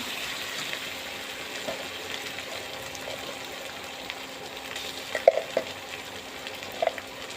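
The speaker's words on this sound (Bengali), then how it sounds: "মরিচ পেঁয়াজ ভাজা ভাজা হয়ে গেছে" Chilli and onion fry in a pan with spices, giving a continuous close, even sizzle. Occasional light clicks and scrapes of a spoon stand out near the end, and no one speaks.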